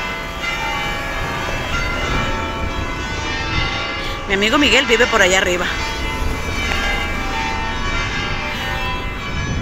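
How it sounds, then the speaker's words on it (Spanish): Church bells of the church in Arucas ring steadily throughout on a sloping street, their sustained tones carrying under someone talking nearby. "Ve las campanas,"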